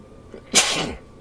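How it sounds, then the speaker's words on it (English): A single loud, sharp sneeze bursts out after a brief quiet intake, then trails off with a breathy hiss. "I'm sneezing."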